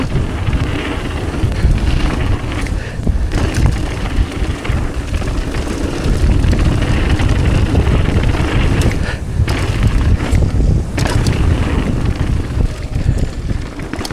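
Strong wind buffets the microphone at a dirt bike farm, a steady loud roar with gusts throughout and no clear speech.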